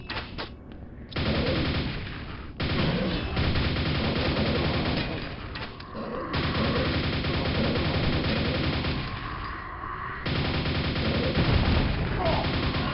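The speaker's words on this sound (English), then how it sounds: "Grab the nail gun to continue." Nail gun fire in Quake played on PC with Quakespasm: sustained, loud, rapid mechanical shooting in long bursts broken by short pauses, mixed with combat noise from the game.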